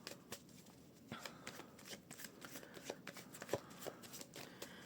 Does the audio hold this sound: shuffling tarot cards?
yes